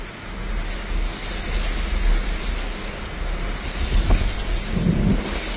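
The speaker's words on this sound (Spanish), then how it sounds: "Llueve a cántaros. Hoy es con relámpagos y truenos." Heavy downpour at night on the beach at Playa Ventura, a steady dense rain roar close by with low rumbling thunder underneath, swelling slightly in places throughout.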